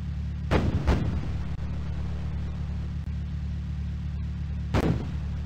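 A WWII StuG assault gun fires in the Microprose tank game Across the Rhine. Two heavy cannon blasts come close together, then a long stretch of low engine drone, then a third blast near the end.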